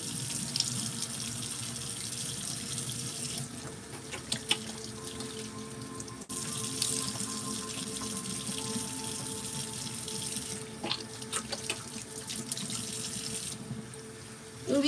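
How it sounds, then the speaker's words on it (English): Cool tap water runs steadily into a sink while something is rinsed off, a continuous close splashing stream that swells and eases as the flow is interrupted, with small clinks, and no one talking. "Alright, let's rinse it off. Cool water."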